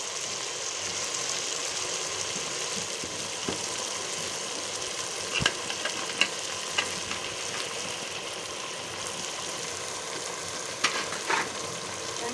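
Turnip pieces go into a pan of chicken curry that is frying and being stirred, giving a steady, moderate sizzle with a few sharp clinks of a utensil scattered throughout.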